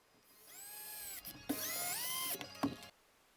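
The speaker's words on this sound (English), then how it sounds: "then we're just going to pre-drill some pilot holes" A power drill whirs in two bursts, winding up and down in pitch as it bores pilot holes into wooden sawhorse legs, with short clunks between runs.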